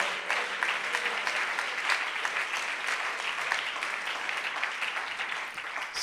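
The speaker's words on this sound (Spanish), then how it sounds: "aplaudan hermanos la presencia del Señor" A church congregation applauds steadily during a Spanish-language Sunday school service, a dense, continuous wash of many hands clapping that holds at an even level throughout with no speech over it.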